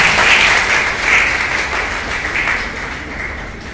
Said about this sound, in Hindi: आप उनके लिए तो तालियां बजा दीजिए